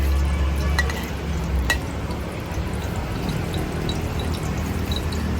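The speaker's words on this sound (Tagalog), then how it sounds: "Tumitila-tilamsik." Cooking oil spatters in a hot pan with a steady, close sizzling hiss and scattered crackling pops, with no voices.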